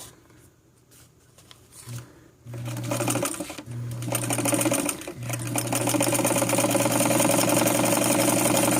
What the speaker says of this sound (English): so here we go with circular stitching.